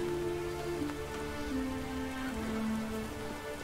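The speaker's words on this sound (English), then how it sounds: "It's raining." Rain falls steadily in The Witcher 3, a dense, even patter that runs throughout under sustained low musical tones from the game's score.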